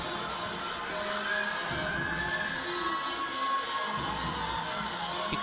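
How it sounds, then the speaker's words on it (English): A busy crowd at a Nebraska versus Ohio State gymnastics meet, with steady cheering, shouts and whoops that include a coach urging on a gymnast, filling the whole stretch without a break. "You can see her coach cheering her on in the background."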